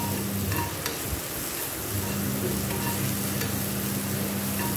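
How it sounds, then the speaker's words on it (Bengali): Vegetables with boiled potato, carrot, green beans and capsicum frying for sago pulao, being stirred in a pan: a steady close sizzle with scraping spoon strokes and occasional clinks, no voices. "ভালো করে নাড়তে হবে"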